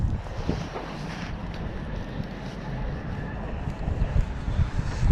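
Gusty outdoor wind buffets the microphone in a steady low rumble that swells toward the end, with faint indistinct sounds beneath.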